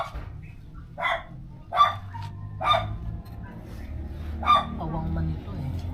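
A dog barks about five times at uneven intervals, sharp and moderately close, over a low background murmur.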